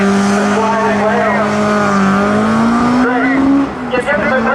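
Ford Escort Mk1 rally car sliding through a spectator stage, its loud nearby engine note climbing steadily with tyres scrubbing before it cuts away, while people talk over it.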